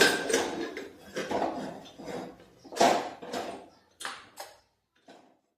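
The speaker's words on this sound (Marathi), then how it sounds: "आपला कुकर आता थंड झालेला आहे। आता आपण उघडून बघूया।" A cooled pressure cooker being opened after cooking urad dal, with a run of metallic clinks and clatters from the lid and pot, close and moderately loud, thinning to a few faint taps at the end.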